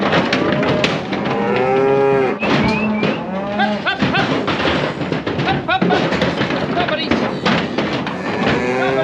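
Weaning calves moo repeatedly, several animals calling loudly and close in overlapping bellows, with occasional clanks from a gate and alleyway and a person talking now and then.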